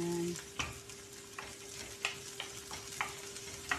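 Garlic sautés with shrimp in a hot pan, a steady close sizzle broken by repeated sharp scrapes and clinks of a spatula stirring, with no talking over it.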